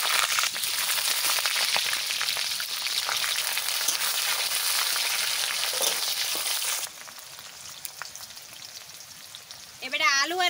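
Onions frying in white oil with bay leaves for fried rice crackle and sizzle loudly for several seconds, then the sizzle drops to a quieter spitting, with a brief voice near the end.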